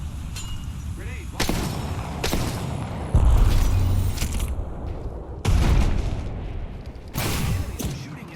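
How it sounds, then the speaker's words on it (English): Enemy gunfire in a shooter video game sounds as heavy booming shots and bursts in several loud waves, with mechanical clatter between them. "Enemies are shooting at me"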